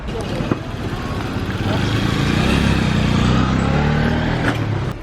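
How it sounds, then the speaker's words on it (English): A petrol police motorbike passes on a street in China, its engine a steady, fairly loud drone that swells after the first couple of seconds and holds to the end, with voices faintly audible underneath. "I have seen my first of many hundreds of petrol bikes here, and it was the police bike."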